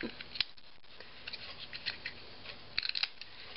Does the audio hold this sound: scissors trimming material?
yes